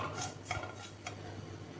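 Poppy seeds roast in ghee in a pan as a spoon stirs them, producing faint soft scrapes and a few light clinks of utensil against metal over a low background hiss.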